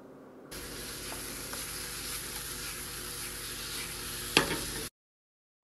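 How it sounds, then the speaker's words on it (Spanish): Sweet plantains sautéing with sofrito in an ounce of vegetable oil in a pan over medium heat, a steady close sizzle with one sharp pop near the end before cutting to silence. "En un sartén a temperatura mediana, vertimos una onza de aceite vegetal y sofreímos los amarillitos"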